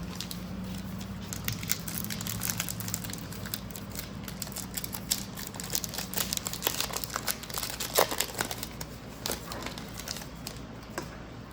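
A Topps Heritage baseball card pack wrapper is torn open and handled, giving close, irregular crinkling and crackling bursts that fill the whole span.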